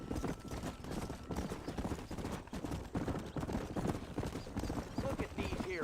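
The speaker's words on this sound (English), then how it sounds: "Look at these here horses." Video game horses' hooves clip-clop in a quick, uneven rhythm close by while voices talk over them.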